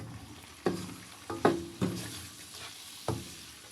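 Spiced potatoes and eggplant being stirred in a frying pan with red chili powder and turmeric, a soft sizzle broken by four or five sharp scraping clatters of the spoon against the pan.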